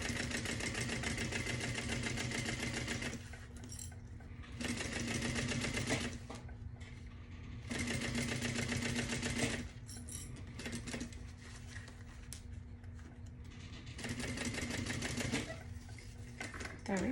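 A sewing machine bastes a convertible tote bag in short bursts of rapid stitching, several runs separated by brief pauses, close but fairly quiet.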